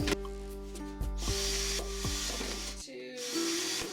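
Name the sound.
drill making drain holes in container bottom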